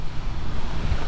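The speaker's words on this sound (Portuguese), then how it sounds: "A chuva chegou, chuva foi de vento" Wind-driven rainstorm arriving outdoors at a rural home, a loud continuous roar of gusting wind buffeting the microphone, with rushing rain noise and no talk.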